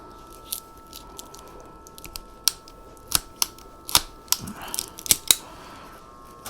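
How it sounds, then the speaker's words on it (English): Ironwood ratcheting pruners cutting a tree branch, a series of sharp, close snapping clicks as the ratchet advances through tough wood, spaced irregularly over several seconds against a quiet background. "these ratcheting pruners from ironwood"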